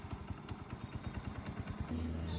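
A restored 2010 Hero HF Deluxe motorcycle engine runs in a quick, even idle, its low thumping pulses repeating steadily at close range with no talk.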